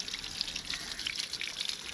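Water backflushes through the engine of a Honda CBR900RR motorcycle under repair, a faint, continuous trickling and dripping with small bubbly splashes and gurgles, close by and alone.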